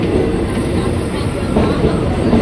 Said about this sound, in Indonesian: Ini KRL Inka nih baru masuk nih